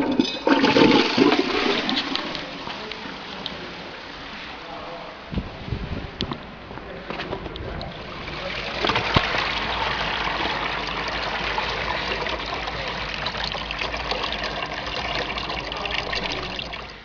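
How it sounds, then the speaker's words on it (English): A toilet flushing at Abbey Pumping Station in Leicester, a loud rushing gush at the start that settles into a steady trickle of the cistern refilling, with some faint background noise throughout. "I'm going to flush the toilet again now that it's filled up again"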